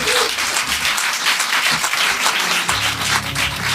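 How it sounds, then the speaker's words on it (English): Loud, dense audience applause at a Politicon panel, continuous clapping from a crowd close by with slight swells. "give them a round of applause."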